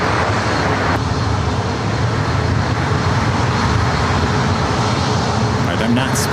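A Boeing 737 MAX 9 airliner in Seattle Kraken livery at LAX airport gives off a steady, broad jet roar that holds at a constant level from start to finish, heard from a distance with no talking.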